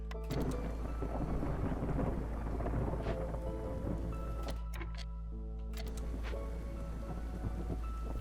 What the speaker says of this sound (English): Oh gosh, right before the start of the storm.